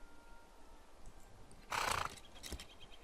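Horse whinny from a mount in Lord of the Rings Online, one short loud neigh near the middle over quiet game ambience, followed by a faint hoof-like knock.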